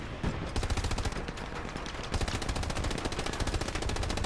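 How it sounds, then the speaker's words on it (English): Rapid small arms fire in Hell Let Loose pelts an armored tank, a dense, continuous rattle of machine-gun bursts and gunshots sounding close and loud throughout, with no talk over it. "Small arms fire is doing damage to us like crazy"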